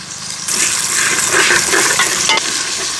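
Cinnamon, cardamom, bay leaf, chopped onion, and ginger and garlic paste hit hot oil in a wok-style pan on a village stove, bursting into a loud, continuous close sizzle with stirring scrapes and no talking.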